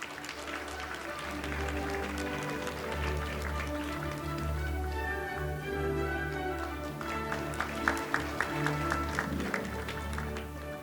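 A conference hall audience applauds steadily during an opening ceremony, a sustained wash of clapping with some sharper claps near the end, and no voices over it.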